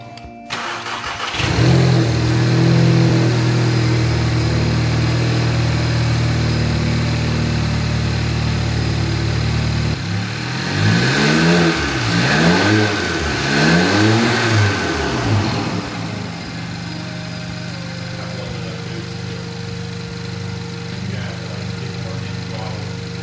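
A VW MK7 GTI fitted with a GFB VTA blow-off valve idles loudly, then revs in several rising and falling sweeps before settling back to a steady hum, with a voice briefly heard nearby.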